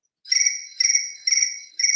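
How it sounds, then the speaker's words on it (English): Four short electronic chirping bursts repeat at an even pace, a high trilling beep like a phone alarm, moderately loud with silence before. "Oh, that was my alarm."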